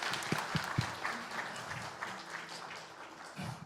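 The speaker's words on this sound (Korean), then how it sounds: "우리 박수로 격려해 주시기 바랍니다." Brief applause from a church congregation for a deacon about to share his experience, a few distinct claps up front then a soft, scattered patter, moderately distant and fairly quiet.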